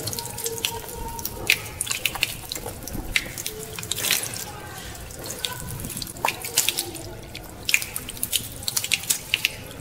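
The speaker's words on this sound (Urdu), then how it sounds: "منہ میں پانی ڈالنا," Tap water running and splashing as it is scooped into the mouth during ablution, a continuous close stream broken by irregular splashes, drips and slurps.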